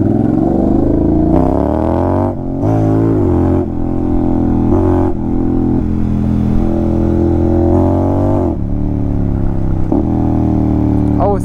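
A Honda X-ADV scooter riding through Paris at night, its loud engine droning and revving continuously, the pitch rising and falling through repeated gear changes, with a rider's voice talking over it.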